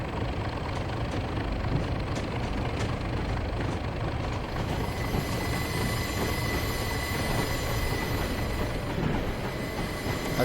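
A Class 37 diesel locomotive in Train Simulator 2021 rumbles steadily as it picks up speed, with a continuous low engine drone, rail noise and faint wheel squeal throughout.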